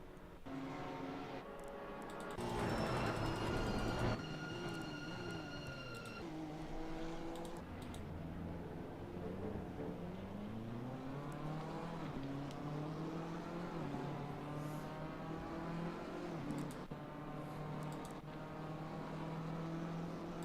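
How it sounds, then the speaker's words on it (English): A BMW race car spins out in the Assetto Corsa Competizione racing game. A steady engine drone with shifting, sliding pitch carries through, and there is a brief louder burst early on. No talking is heard. "the BMW just turned in and spun"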